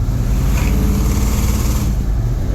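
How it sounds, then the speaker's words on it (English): A car with a Magnum 360 engine swap sends out a deep, steady exhaust rumble under acceleration, heard from inside over continuous road noise. "It's got some more cubes, so it's got a nice nice deep tone to the exhaust."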